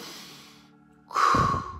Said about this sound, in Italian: fai delle respirazioni, ti rilassi 100 volte di più